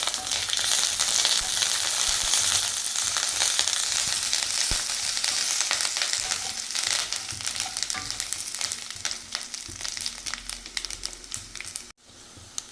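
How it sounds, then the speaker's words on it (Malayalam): Mustard seeds, fenugreek, curry leaves and chilies fry in hot oil for a prawn pickle, giving a loud, steady crackling sizzle that runs unbroken for most of the stretch and drops away briefly near the end. "കടുക് ഉലുവായി ഇപ്പോൾ ചേർത്ത് കരിഞ്ഞു പോകാതിരിക്കാനാണ് ഇതിലേക്ക് ഞാൻ കറിവേപ്പില ചേർത്ത് കൊടുക്കുകയാണ്"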